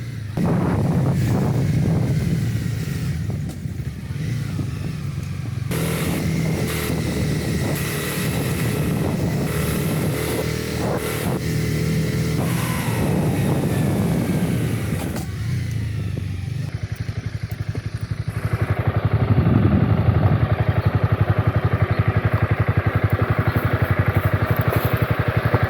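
A motorcycle climbing a hill toward Balin Iron Tower on Lala Mountain, Taoyuan: a steady loud engine drone with rattling and shifting tone throughout, no speech.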